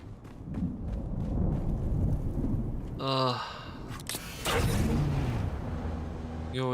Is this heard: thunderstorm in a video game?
yes